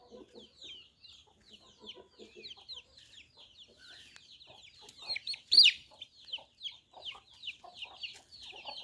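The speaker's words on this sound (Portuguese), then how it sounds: "E aqui as galinhas, os cocás novos, aqueles mais velhos." Chickens, young and older roosters, clucking on a rural smallholding with a cashew tree, a steady run of close, moderately loud clucks with one sharper squawk partway through.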